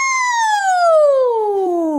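A voice imitates a siren as a vocal warm-up, one smooth sustained tone sliding steadily downward from high to low, clear and close with no background noise.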